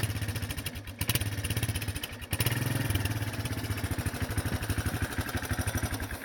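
A Honda Big Red three-wheeler engine idles roughly up close, a steady rapid thumping pulse with a slight stumble near the start and no voices.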